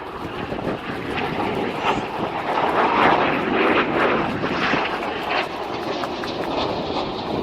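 Red Arrows synchro pair jets passing at the Bournemouth air show, a loud continuous roar with wind buffeting that swells to a peak midway and stays strong throughout.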